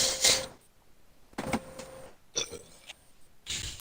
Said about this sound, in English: Stop burping.